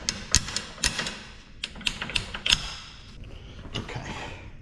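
A bench vise is adjusted during a trailing arm replacement, giving sharp metallic clanks and knocks with scraping and handling noise between them, close and irregular.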